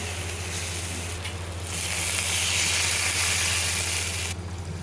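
Fried katla fish sizzling in spiced masala in a pan, a steady broadband hiss that swells louder midway and stays strong before easing off near the end, with no voices.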